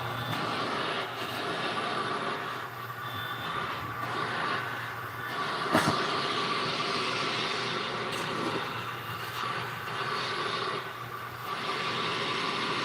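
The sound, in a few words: vintage Electrolux vacuum cleaner running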